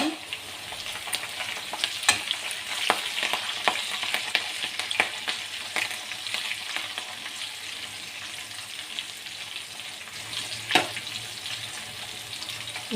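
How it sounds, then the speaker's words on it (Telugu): Bitter gourd pieces fry in oil with curry leaves and tempering spices while being stirred, a steady close sizzle broken by repeated scraping strokes of the spoon against the pan, with no talking. "ఒకసారి కలుపుకోవాలి"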